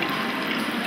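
Liquid pours steadily into glasses behind a bar as a continuous, even rushing splash, close and moderately loud, with no talk.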